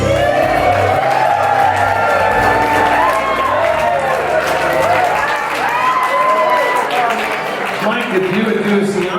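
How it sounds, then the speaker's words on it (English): Guests at a wedding reception clap and cheer loudly, a full, continuous wash of applause with whoops and lively chatter mixed in, close and steady from start to end. "them a round of applause."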